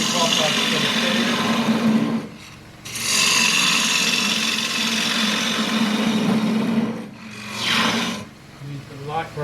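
Wood-turning tool cutting a wide-rimmed wooden dish spinning on a lathe, a loud continuous rasping scrape with brief pauses as the tool is eased in and adjusted.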